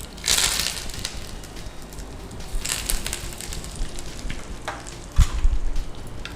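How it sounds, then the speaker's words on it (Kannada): Mustard seeds, cumin, curry leaves and a dried red chilli dropped into hot oil for a tempering, crackling and spitting in bursts, loudest at the start and again near the end, with no talk. "ಸಾಸಿವೆ ಹಾಕುವ, ಸ್ವಲ್ಪ ಜೀರಿಗೆ ಹಾಕುವ, ಕರಿಬೇವು ಮತ್ತು ಒಂದು ಒಣಮೆಣಸು."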